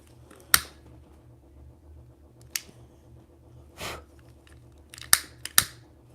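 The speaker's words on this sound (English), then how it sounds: "I'm just going to cut some of that white off because there's so much of it." Scissors trim off excess white material while making a flag tumbler, giving a few sharp separate snips spread out over a quiet background.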